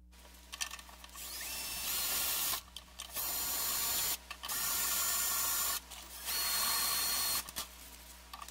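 A small DeWalt cordless screwdriver, used during a guitar string change, whirs in four steady bursts of a couple of seconds each with short pauses between, close and fairly loud.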